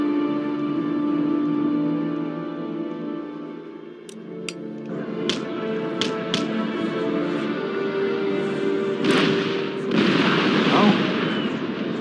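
Musket volleys in Empire Total War, a Swedish army's line firing in a battle: scattered sharp cracks, then a heavier rolling burst of shots over a steady battlefield din and music.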